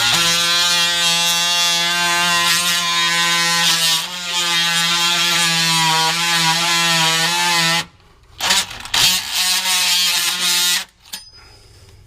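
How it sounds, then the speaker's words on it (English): Oscillating motorized saw, used while working on a 2000 Ford F-350 V10 Super Duty neutral safety switch, buzzes with a loud steady high-pitched drone for about eight seconds, then cuts out and restarts in short bursts. "an oscillating motorized saw."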